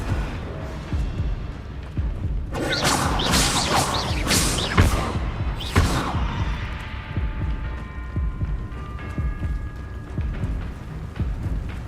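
A spell cast in Hogwarts Legacy bursts out as loud whooshing, crashing blasts over a few seconds, then fades into a lingering rumbling, humming tail.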